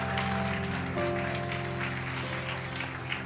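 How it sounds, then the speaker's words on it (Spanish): A church congregation claps during a worship service, a short burst of applause over sustained music chords. "da un fuerte aplauso a Dios"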